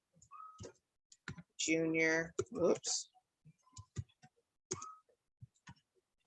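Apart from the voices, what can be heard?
typing on computer keyboard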